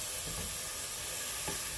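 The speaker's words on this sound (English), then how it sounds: "So I'm really just frying it" Garlic shrimp fry in a pan, giving a soft, steady sizzle with faint stirring scrapes, quiet and close, with no talking.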